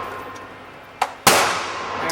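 A Beretta Pico pistol firing MagTech 95 grain full metal jacket ball ammunition lets off one sharp, loud shot with a lingering ring, preceded by a smaller metallic click.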